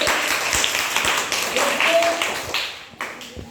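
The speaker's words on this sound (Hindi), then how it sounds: "सब ताली बजाइए" Students in a Hindi-medium classroom clap together after a classmate answers, a short burst of scattered hand claps with a teacher's voice and chatter mixed in.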